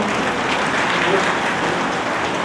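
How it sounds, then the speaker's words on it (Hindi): Loud, dense applause from a crowd at a Bhagavat Katha religious gathering in a temple, sustained and even from start to finish. "जोरदार तालियां।"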